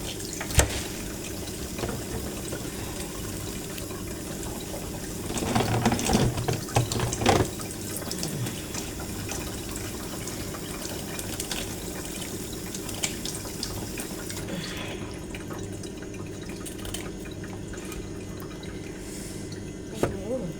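Large fish being washed and cleaned by hand under running water, a steady trickle and splash of flowing water with a busier burst of handling in the middle, close and fairly faint.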